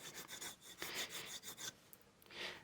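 Polishing paste rubbed onto the coarse side of a leather strop, heard as soft, repeated raspy rubbing strokes up close, steady and alone with no talking.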